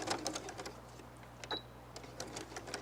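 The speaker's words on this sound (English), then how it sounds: "I'm going to sew down to the dot, and then I'm going to back stitch to hold it there" A sewing machine stitches a quilted fall table runner down to a marked dot and then back stitches, giving soft, quick mechanical ticks and short bursts over a steady low hum, fairly quiet and close.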